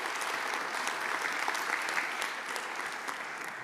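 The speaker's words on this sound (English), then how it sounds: "let's have a big round of applause for our speaker" Conference hall audience applauds a speaker after a Python tech talk, an even, continuous patter of many hands heard at moderate distance and fairly soft level.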